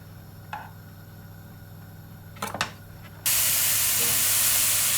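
Mushrooms drop into a hot pan and break into a sudden loud, steady hissing sizzle after a few quiet clicks and a brief clatter, with no voices.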